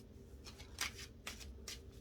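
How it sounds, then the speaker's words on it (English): Tarot cards being shuffled by hand during a reading, soft riffling and slapping bursts repeating every half second or so, close but faint over low background hum. "That's why I've been shuffling this whole time."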